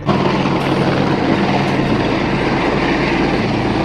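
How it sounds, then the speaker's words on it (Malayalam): A loud helicopter roars steadily nearby as it lands at a mountain site, its rotor thump and engine whine filling the whole stretch without letup. "അങ്ങനെ നമ്മുടെ ഹെലികോപ്റ്റർ ലാൻഡ് ആയിരിക്കുകയാണ്."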